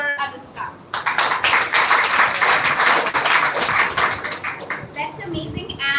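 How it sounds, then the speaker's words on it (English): Applause from a college audience for a student speaker at a public speaking contest, rising abruptly after a moment of talk and holding strong for several seconds before fading as voices return. "have a huge round of applause for Anushka"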